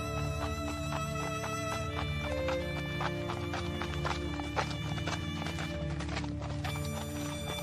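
The hooves of a prince's horse in an animated fairytale beat a steady, continuous clip-clop, clear and close, over a sustained tonal backing with no talk.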